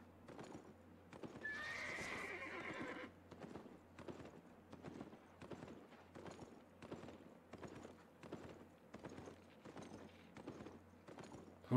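A horse in the Albion Online video game clip-clops along at a steady running rhythm, close and fairly quiet, with a brief neigh near the start rising above the hoofbeats.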